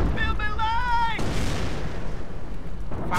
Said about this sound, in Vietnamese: Pháo mình đang bắn khá là nhiều